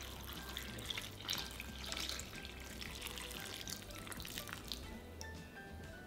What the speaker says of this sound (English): Pour in the brine.